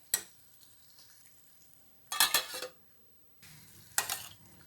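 Ridge gourd sautés in a pan for a Tamil-style kootu with a faint, low sizzle. Three bursts of scraping and stirring against the pan break in at intervals, close by and without talk.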